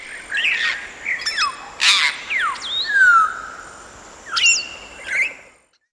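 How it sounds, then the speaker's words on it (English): An African grey parrot gives a busy run of whistled rising and falling calls mixed with harsh squawks and clicks, fairly loud and close, over a light background rustle. "African grey parrot."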